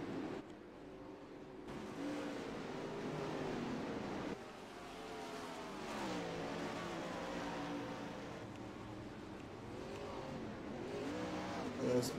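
Sprint cars race at Knoxville in a World of Outlaws round, their engines wailing and sweeping up and down in pitch as they circle the dirt track, loud and continuous with a faint crowd or announcer bed beneath.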